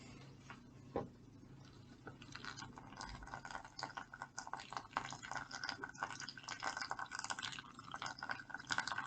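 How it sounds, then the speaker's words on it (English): Water poured by hand over ground coffee in a pour-over dripper, a quiet, close, continuous trickle and spatter that grows busier as it goes. "as I keep continuing to pour water"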